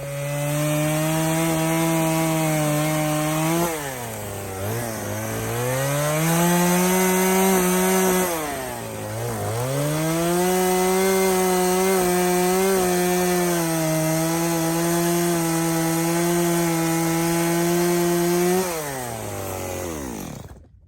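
Chainsaw limbing the outstretched branches off a felled piñon or cedar tree in New Mexico, the engine revving loud and close in long sustained cuts, with two brief dips as the saw eases off between branches.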